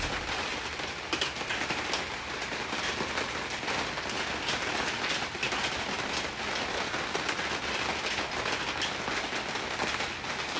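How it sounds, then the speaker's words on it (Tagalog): Heavy rain falls outside in Cavite, a dense continuous patter of drops on surfaces that stays steady and fairly loud throughout. "It's raining outside."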